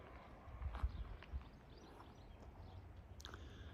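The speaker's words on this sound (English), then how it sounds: "Horse." A horse passing by on a quiet rural road near Nethy Bridge in the Scottish Highlands, a few faint hoof clops early on against soft outdoor ambience.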